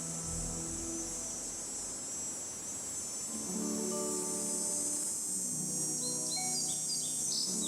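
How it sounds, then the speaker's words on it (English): Bird calls ring out in an outdoor scene of the video game Nancy Drew: Ghost Dogs of Moon Lake, with repeated chirps and tweets over a steady insect-like buzz and ambient hum, with no talking. "I hear a bird."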